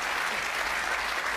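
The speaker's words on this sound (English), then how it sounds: "Biggest applause so far." Studio audience applauding at a televised political debate, a dense burst of clapping that holds steady and fairly loud through its brief length.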